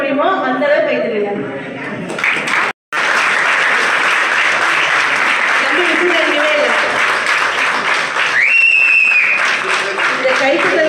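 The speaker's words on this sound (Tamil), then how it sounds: "உங்களால் எந்த அளவு கை தட்ட முடியுமோ அந்த அளவு கை தட்டுங்க" A large audience claps hard on request, dense sustained applause filling the space, with a brief cutout partway through and a rising whistle-like tone near the end.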